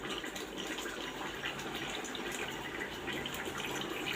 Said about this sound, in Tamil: அளவு தண்ணி ஊற்றிக்கலாம்.